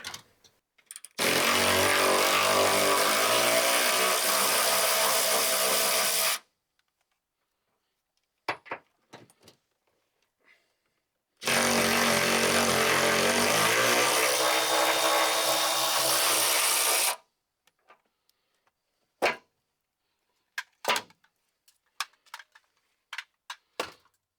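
A power tool loosening 18 mm seat belt bolts in the rear cab of a 1999-2009 Chevy GMT-800 Silverado: two loud, sustained bursts of about five seconds each, separated by quiet gaps with scattered clanks and handling clicks.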